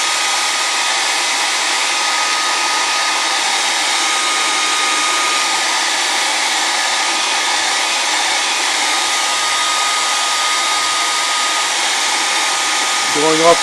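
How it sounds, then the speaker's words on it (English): A hair dryer blows steadily and loudly at close range while drying work on a puppet head at a craft table. The roar stays unbroken throughout, ending with a faint knock. "Shoot this with the hair dryer."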